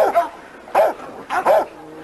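Reno, a small pit bull, gives short yips and barks in three separate bursts, close by in a yard, with brief quiet between them.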